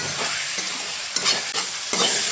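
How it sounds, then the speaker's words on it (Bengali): Pointed gourd fries in a pan with mustard-poppy paste, giving a steady close sizzle with occasional stirring scrapes and no voices. "এখন পটল দিয়ে এটা আরেকটু ফ্রাই করে নেব।"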